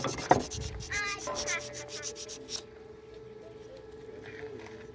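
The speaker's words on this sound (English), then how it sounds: "Sand it off a little bit." Wooden top spinning on a lathe and being sanded: a close, rasping rub with a steady motor hum underneath, then the scraping stops after about 2.6 seconds and only the lathe keeps humming.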